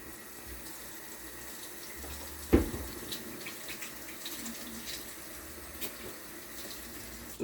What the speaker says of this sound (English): Let me go ahead and wash my hands.